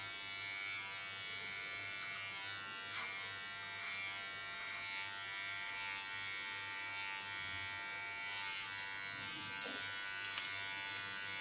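An electric hair clipper cutting hair with a comb used as a guide, a steady close buzz humming without a break throughout, faint, with no talk.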